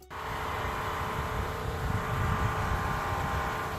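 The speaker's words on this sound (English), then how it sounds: "You can hear the generator in the background." A generator runs steadily in the background at an outdoor homestead work site, a constant broadband drone with no clear pauses, moderately loud and unchanging throughout.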